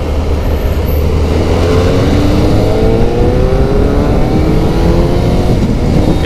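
Kawasaki ZZR600 motorcycle engine while riding, a steady loud smooth drone with rising pitch as it accelerates through the gears, heard close and continuous over wind rush.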